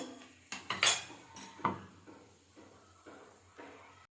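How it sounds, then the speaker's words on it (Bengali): Whole cloves and black peppercorns stirred in hot oil for a Kashmiri dum aloo: several close metallic clinks and scrapes of a spoon against the pan, loudest early on and then sparser, with no talking. "মশলাটা একটু নাড়িয়ে নেব ফোড়নের সুন্দর গন্ধ বেরোচ্ছে"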